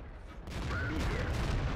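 A tank cannon fires in World of Tanks, the shot landing as a sharp broadband blast about halfway through, then a rumbling, noisy tail of battle sound carries on at steady loudness to the end.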